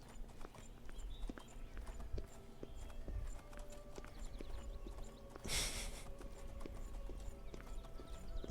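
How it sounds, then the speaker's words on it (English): Horse hooves clip-clop steadily at a walking pace from a ridden horse on the road to Cloud Ruler Temple in the video game Oblivion, over a low ambient game soundscape with a brief louder burst midway. "Martin gets to ride on the horse,"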